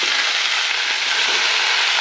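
Radish and fenugreek greens fry in a pan, giving a loud, dense, even sizzle that holds steady for the whole moment without any voices.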